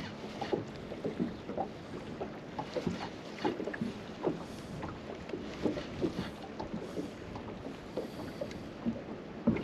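Strong wind gusts over the Pungo River while someone fishes for speckled trout from a small boat, buffeting the microphone with uneven rushing bursts along with faint water slapping against the hull, and no voices.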